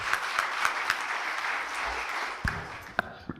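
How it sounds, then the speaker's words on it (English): A lecture audience at an annual lecture event gives a dense, steady round of applause that fades out, with a few sharper claps near the end. "To a huge round of applause, Mr. Amitabh Kant."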